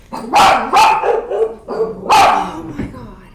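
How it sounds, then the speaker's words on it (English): A dog barks outdoors in three or four loud, close barks with short gaps between them, and a quieter yip follows near the end. "Dogs, wind, we got it"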